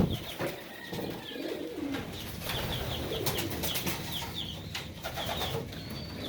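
Pigeons in a backyard stock loft give soft repeated coos and a brief flutter of wings, close by over a steady outdoor background, with no talking.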